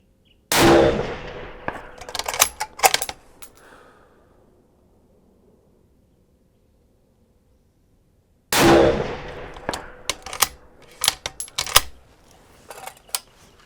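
Two loud rifle shots ring out at an outdoor shooting range, fired from a tripod, each a sharp crack with a long decaying echo, followed by clanks and handling noises, several seconds apart.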